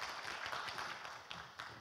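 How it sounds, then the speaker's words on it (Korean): An audience at a conference session for a local newspaper content contest gives a short round of clapping, a faint patter of scattered hand claps with a few sharper claps standing out, with no talk over it. "박수 한번 해주세요"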